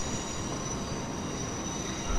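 A New York subway train in the video game World of Subways 4 rolls along with a steady rumble of wheels and a high, drawn-out squeal from the rails, constant and fairly close, with no talking.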